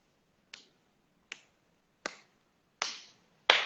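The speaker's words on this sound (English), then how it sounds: "Slow clapping." Five slow, deliberate claps ring out one by one, spaced roughly evenly, each sharp and isolated against silence, the last two louder and fuller.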